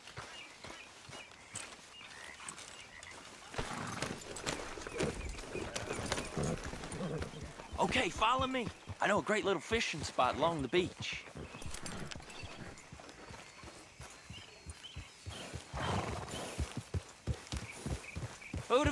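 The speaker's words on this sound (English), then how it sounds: "Grab your horse and let's go." Horses in Red Dead Redemption 2 move in a rhythmic stream of hoof clip-clops that start quiet and grow louder, while someone talks over them.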